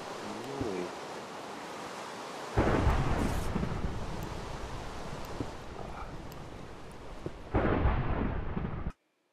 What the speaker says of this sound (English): It's thundering like crazy out there.